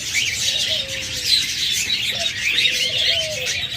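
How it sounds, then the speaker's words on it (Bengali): A pair of lovebirds chirps constantly, with dense high chatter and a few clearer calls, close and fairly loud. "চমৎকার এক জোড়া লাভবার্ড রয়েছে দেখুন।"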